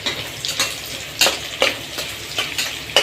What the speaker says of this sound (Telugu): ఇందులోకి ఆనియన్స్, పచ్చిమిర్చి, కొంచెం పుదీనా వేసేసి దీన్ని కొంచెం ఫ్రై అవ్వనివ్వండి.